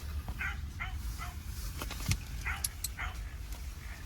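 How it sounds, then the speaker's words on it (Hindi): A dog named Bailey barks fiercely at night in a forest camp while a leopard is nearby, giving several sharp barks and yips over a constant low rumble of background noise. "और देखो बैली भी भौंक रही है बहुत भयंकर करके"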